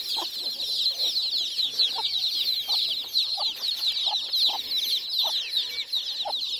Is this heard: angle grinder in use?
no